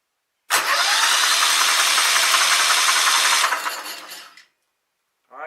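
A Kohler Commander engine on a Sears Craftsman DieHard tractor cranks steadily for about three seconds with a loud, even grinding whir that fades as it winds down, followed by a brief sound at the end.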